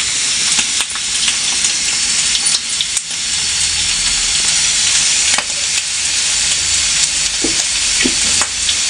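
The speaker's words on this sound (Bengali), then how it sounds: "আলু ভাজা দেখতেছ?" Loud, continuous sizzling of potatoes deep-frying as French fries in a kitchen late at night, a dense hiss with occasional pops and utensil knocks, close and without speech.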